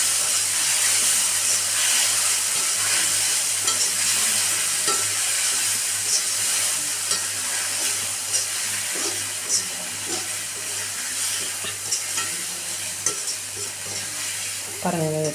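Raw-ground paste for a bitter gourd curry sautés in oil in a pan, with a steady hissing sizzle and frequent scraping stirs close up.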